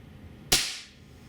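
A Beeman P1 .22 caliber air pistol fires one sharp, loud crack that rings briefly and then fades into a quiet room.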